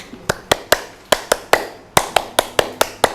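A school class claps hands in an icebreaker game: about fourteen sharp, close, unison claps come in uneven bursts and pairs with short pauses between them.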